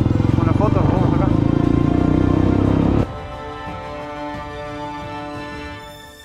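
A motorcycle with a loud aftermarket exhaust, ridden at night in Tucumán, gives a close, pulsing, heavy rumble for about three seconds, then drops to a quieter, steadier drone.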